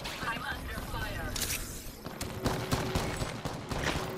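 Rapid gunfire bursts from an Apex Legends firefight, including Seer, crackle repeatedly in dense volleys with sharp transients throughout, mixed with busy game effects and voices talking over it.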